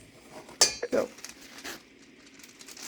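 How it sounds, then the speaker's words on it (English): A spoon clinks and scrapes against a bowl while flour dough is stirred, with a few sharp knocks close together early on, then softer irregular scraping. "I'm going to stir this, moisten all the flour until a soft ball forms"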